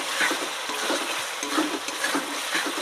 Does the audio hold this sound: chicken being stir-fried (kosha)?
yes